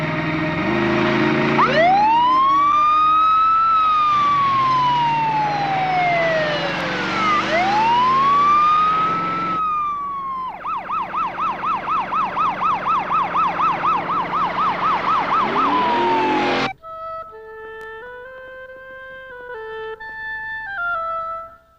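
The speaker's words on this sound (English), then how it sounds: "Hit the siren." A car siren from a 1987 movie starts up loud and close, sweeping wail cycles giving way to a rapid yelp and then a stepped two-tone horn pattern.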